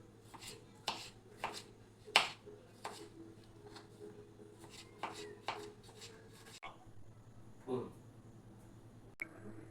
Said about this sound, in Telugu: ఇప్పుడు టమాటోస్ కట్ చేసుకుందాం